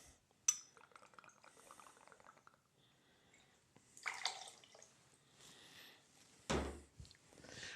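Absolut vodka poured into a cocktail shaker, a short quiet liquid trickle among soft glass clinks and handling knocks, with a louder clatter near the end.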